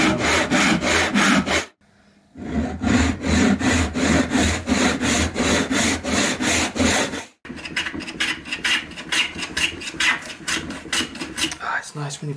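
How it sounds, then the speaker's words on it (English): A sharp hand plane shaves wood in repeated rhythmic strokes, each a rasping swish. The strokes are loud and close, with one brief pause early and another near the middle. "it's nice when your planer is sharp"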